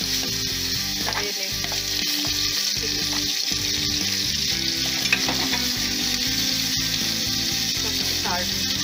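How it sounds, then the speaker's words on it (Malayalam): Ginger garlic paste and salt frying in oil inside a pressure cooker, a steady loud sizzle with scraping stirs throughout and a few faint low knocks early on. "ഇഞ്ചി വെളുത്തുള്ളി ഒക്കെ മൂത്തിട്ടുണ്ട്"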